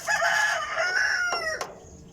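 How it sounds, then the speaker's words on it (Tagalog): Backyard chickens fill the air as a rooster crows loudly nearby, one drawn-out call followed by a short clucking squawk. "Tapos lang natin magpakain sa ating mga alagang mga manok"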